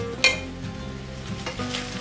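Ground meat frying over high heat for spaghetti bolognese, a steady close sizzle broken by brief clinks and scrapes of stirring in the pan, with no talk.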